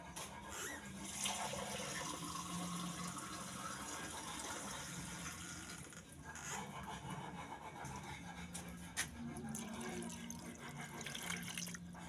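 Two glasses of water are poured into a pot of Filipino pinakbet, a soft steady splash and trickle lasting about twelve seconds, quiet and close, with faint background hum.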